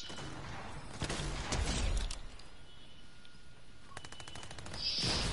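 Gunfire in a shooter video game, including an AR-style rifle: rapid automatic bursts and crackling shots in uneven volleys, loud and close, with quieter gaps between them and a flurry of sharp rattling near the end.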